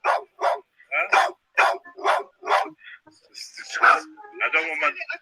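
A dog barks protectively in a rapid run of sharp, close barks, then whines and yips as people talk over it.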